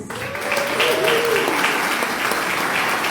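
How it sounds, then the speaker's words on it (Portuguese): An audience at a talk on sexuality after 50 breaks into sustained applause, dense steady clapping filling the room from start to finish, with a faint voice briefly audible early on. "uma salva de palmas para os homens"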